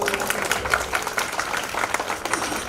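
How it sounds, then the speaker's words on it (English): Crowd at a Cloud Community Days tech conference in Bhopal cheering and applauding, steady dense clapping with scattered whoops filling the whole stretch at moderate loudness. "Can we have a cheer on this?"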